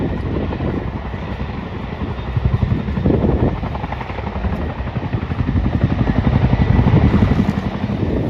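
A Chinook helicopter flies a display at Duxford airfield, its loud, close rotor chop a continuous rapid thudding beat over a heavy engine roar that swells and stays strong throughout.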